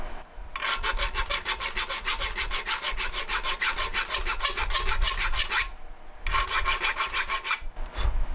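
Hand file rasping dragon-scale notches into a steel knife spine: fast, rhythmic back-and-forth strokes, loud and close, in a long run, then a brief pause and another burst.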